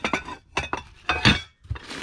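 Milk glass and other secondhand glassware from an auction box lot clink and knock together as they are handled, giving several sharp, close clattering hits with brief pauses between them.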